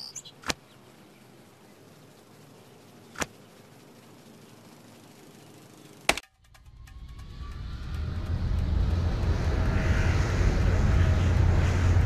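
A float plane's engine rises steadily from near silence into a loud, broad drone that builds and holds, flying out to a remote tropical island in a Nancy Drew game, after a few sharp clicks.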